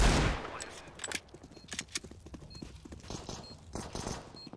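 Rapid bursts of gunfire in the Counter-Strike video game crack out as shots hit walls, a loud opening blast followed by irregular clusters of sharp reports.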